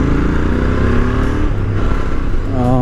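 A Royal Enfield Interceptor 650 BS6 twin-cylinder motorcycle runs close and loud, its engine and exhaust holding a steady, throaty drone that rises in pitch toward the end as it revs.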